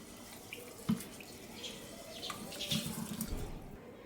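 Rice is rinsed under tap water in a pressure cooker, with a soft steady flow of water, light splashes and a few faint clinks.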